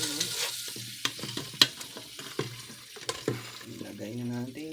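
Shrimp and margarine sizzling in a pan (kawali) while being stirred, steady frying hiss with repeated clanks and scrapes of a utensil, a few brief voice fragments underneath.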